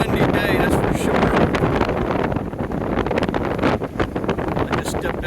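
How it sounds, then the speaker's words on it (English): Gusty wind buffets the microphone on a pier at the water's edge in Crisfield, Maryland, on a cold day. The rumble is loud and continuous, and no one talks over it. "It's a cool, windy day, that's for sure."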